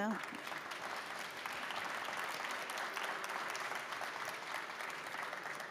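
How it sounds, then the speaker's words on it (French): Audience applause for the speakers at the close of a conference session on European decarbonisation, a dense, steady wash of many hands clapping at moderate distance that fills the whole stretch without a break. "Je vous propose qu'on puisse les applaudir."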